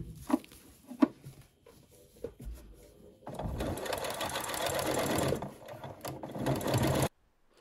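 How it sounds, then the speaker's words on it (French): A sewing machine runs a holding topstitch along the lining side of a dress bodice, using a twin needle or zigzag stitch: a few short stitch bursts first, then a steady close whir for several seconds before stopping. "je vais venir faire une petite surpiqûre de maintien côté doublure"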